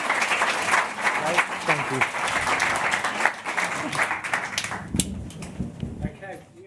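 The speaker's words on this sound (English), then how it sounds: "round of applause for our panelists." Applause for panelists at an online advertising industry event: a steady patter of clapping runs throughout while a presenter's voice speaks over it near the end.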